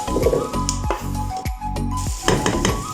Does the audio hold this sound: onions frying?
yes